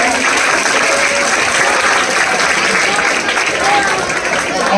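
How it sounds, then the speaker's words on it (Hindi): Audience applause welcoming a guest at a Ramlila committee event in Ganwara, Mahul, Azamgarh, with a steady, dense wash of clapping lasting throughout, loud and close, with no break. "आप लोग तालियों से इनका स्वागत करें।"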